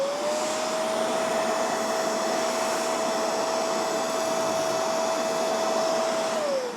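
A MOOSOO cordless wet/dry shop vacuum powered by a Makita battery runs on its high setting, giving a steady, loud whine with an airy roar that holds evenly throughout and winds down slightly at the end, with no talking.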